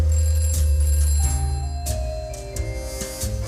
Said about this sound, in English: It took me a moment to recognize the sound of the phone ringing.